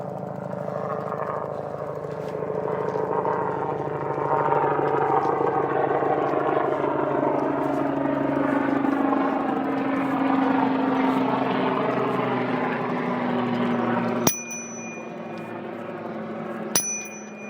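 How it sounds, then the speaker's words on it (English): A Coast Guard helicopter's throbbing rotor and engine roar builds as it passes overhead, then fades, with two sharp bell rings near the end. "That's a Coast Guard chopper."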